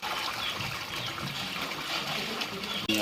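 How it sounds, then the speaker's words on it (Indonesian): River floodwater overflowing into a residential area gushes and rushes steadily, a loud continuous wash of water with no talk. "banjir dipicu luapan air sungai yang tidak mampu menampung air hujan dan air kemudian meluap ke permukiman"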